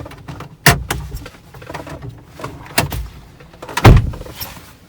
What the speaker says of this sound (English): if you are trying to do a central locking, there you go, so it is working fine